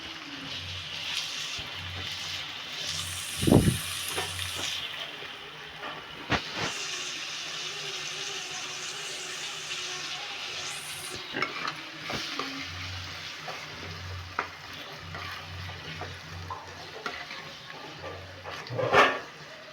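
Tomatoes and onions sizzle and hiss in a hot pan, with scraping stirs and a few sharp clanks of the spoon against the pan, continuous and close with no talking.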